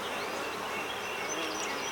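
Dense, continuous buzzing of honeybees swarming over a hive frame during a hive inspection, close and steady with no pauses.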